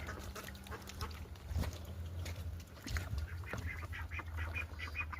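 Poultry of an egg-laying breed call outdoors, faint honking and quacking notes scattered over a low hum, with a couple of louder calls near the middle.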